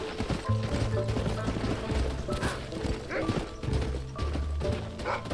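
Horse hooves pound in a rhythmic clip-clop gallop through Red Dead Redemption, heavy and close, with repeated thudding strides, clattering gear and a brief snort heard under a busy game soundscape.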